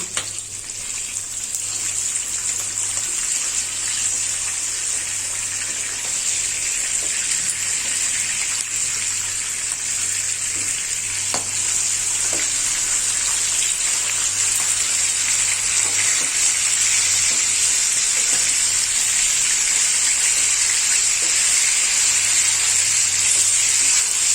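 Salted, turmeric-coated katla fish pieces, just flipped, keep frying in hot oil with a loud, unbroken, close hiss of sizzling that builds slightly at the start, then stays even throughout with no voices.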